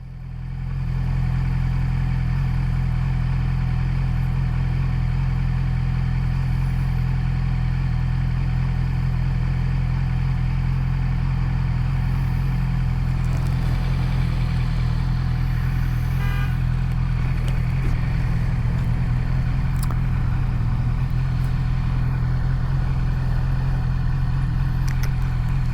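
A 2019 Yamaha YZF-R6 motorcycle engine runs as a loud, steady, close-up drone with a constant pitch, holding for the whole stretch without pause.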